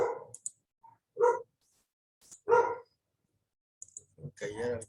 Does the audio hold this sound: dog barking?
yes